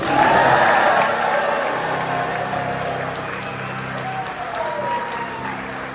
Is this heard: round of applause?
yes